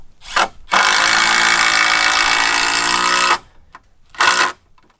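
A power drill whirs in a brief burst, then runs strongly for a few seconds driving a screw deep into pine wood, followed by another short burst.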